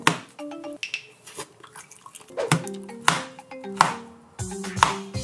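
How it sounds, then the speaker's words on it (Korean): A knife slices a banana on a cutting board for a banana cake, giving a run of close, sharp knocks at an uneven pace with small clinks between them. "바나나를 자릅니다."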